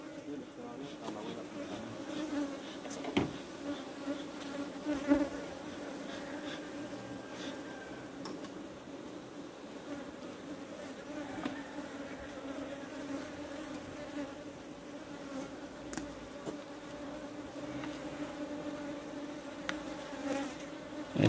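Bees buzz steadily around beehives during a hive check, a continuous close droning hum with wasps nearby and occasional faint knocks, with no talk over it.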